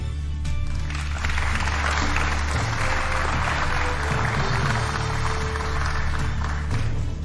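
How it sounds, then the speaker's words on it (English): An audience at the 2022 Nairobi governor debate applauds to welcome candidates to the stage, a dense, sustained clapping that swells after the first second and carries on loudly to the end. "we request the audience to applaud and welcome candidates to the stage."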